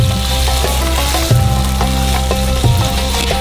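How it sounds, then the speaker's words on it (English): Butter, onions and tomatoes fry in a ripping hot skillet in a small kitchenette in Iraq, a loud steady sizzle close up with periodic clanks and scrapes of stirring, and no voices. "Butter hits the pan and cooking begins. Onions and tomatoes join in."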